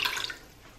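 Water being poured out, a short splashing gush that fades within a fraction of a second and leaves only faint background hiss.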